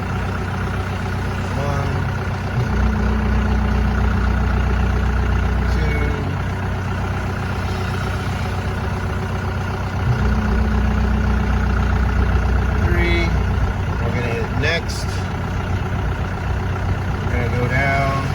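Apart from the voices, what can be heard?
loader engine idling during Walz LS 300 calibration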